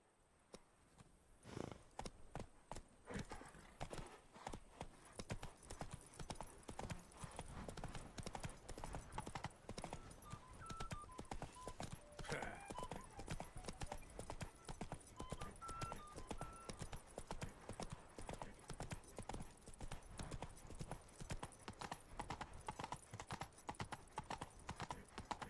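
Roach the horse trotting in The Witcher 3: a steady, close clip-clop of hooves that keeps going for the whole stretch, with soft game ambience behind it and a brief whinny partway through.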